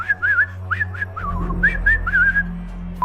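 Whistling Willie toy enemies from the South Park PC game whistle a series of bright, wavering tunes, several phrases close together and fairly loud, with game music humming underneath.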